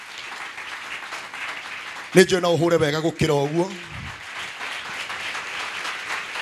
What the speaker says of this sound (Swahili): Tupige makofi mazuri